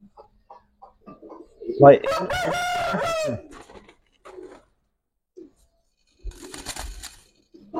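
Military and Lalpatti pigeons on a farm, one sitting on eggs, with a loud bird call near the start and softer fowl sounds later, under brief speech.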